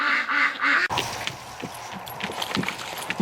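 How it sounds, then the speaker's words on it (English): Ducks quack and call at a winter lake, a dense, overlapping burst of calls up close, with faint footsteps and rustling in the background. "Well, the ducks are really upset at me, guys."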